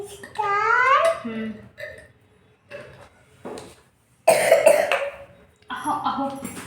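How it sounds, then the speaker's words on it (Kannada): A person coughs a few times in short bursts, mixed with soft voices and a child's babbling nearby. "ಕೆಮ್ಮು ಯಾಕೆ ಮತ್ತೆ ಬಂದಿ"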